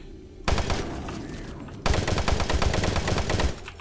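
A submachine gun fires in Doom 3 in two loud, rapid bursts of closely spaced shots, separated by a short gap, the second burst longer and harsher than the first.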